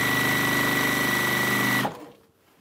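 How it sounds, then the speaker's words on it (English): A semi-industrial straight stitch sewing machine runs steadily and loudly while sewing binding onto a quilt, then cuts off and fades to quiet. "This is a semi-industrial straight stitch machine"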